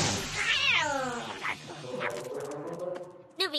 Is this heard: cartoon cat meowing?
yes